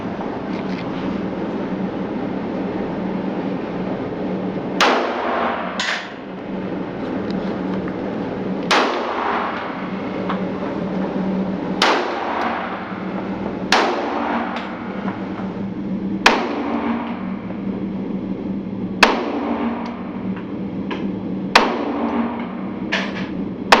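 Pistol shots from a Springfield 1911 Loaded Operator fired at a shooting range, a series of sharp, loud reports spaced a few seconds apart over steady background noise.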